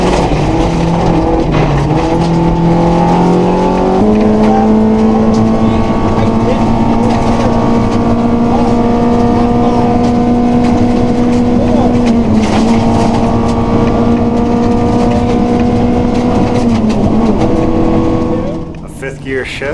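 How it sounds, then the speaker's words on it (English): A rally car at full throttle, running over 105 mph on a slippery stage, howls loudly in cabin perspective. Its engine note climbs steadily, drops sharply at each gear change and climbs again, then falls away at the end. "A fifth gear shift means we were just over 105 miles an hour."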